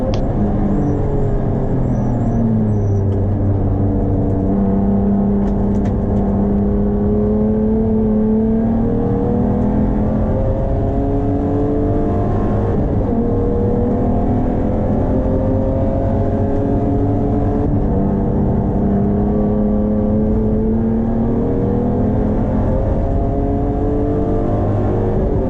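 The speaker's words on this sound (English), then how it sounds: "The MG continued to be elusive, as its straight line speed was far beyond that of Kel's BMW" An MG and a BMW E36 race cars on the Taupo circuit, engines droning loud and steady with rising and falling pitch as they accelerate and shift, a continuous near roar with no talk.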